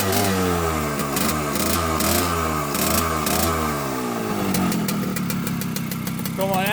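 A small homemade 6–12 volt test engine runs steadily with a rapid rhythmic chugging that shifts toward a faster, higher whine near the end, close and loud throughout.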